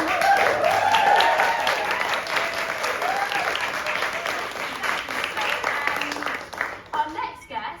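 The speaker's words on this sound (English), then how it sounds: "give a massive round of applause for them" Warm applause from a live show audience, with a broad wash of clapping that is loudest at the start and then slowly thins and fades toward the end, with some voices mixed in underneath.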